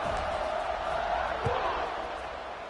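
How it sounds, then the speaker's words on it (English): A stadium crowd at an American football game buzzes steadily after a touchdown, a dense continuous roar of many voices with no breaks, heard under a broadcast commentator's talk. "this crowd is buzzing after that last score."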